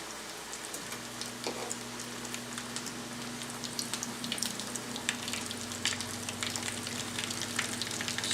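Cauliflower pieces fry in hot oil with a constant crackling, popping sizzle, heard close and fairly quiet, with a faint steady hum underneath and no talking.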